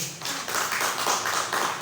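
Audience applause at an Indonesian business seminar, a steady wash of many hands clapping at close range that fills the whole moment without a break.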